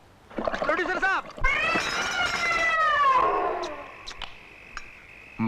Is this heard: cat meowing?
yes